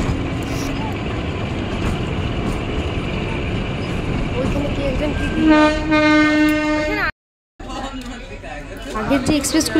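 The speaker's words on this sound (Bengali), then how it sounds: "এই দেখো চলে যাচ্ছে আমাদের ট্রেনটা" The Kalka–Shimla narrow-gauge toy train rolls along with a steady rumble of wheels and carriages, then a sustained horn-like tone sounds before a brief dropout. Voices chatter throughout.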